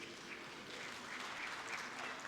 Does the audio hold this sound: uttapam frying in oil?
no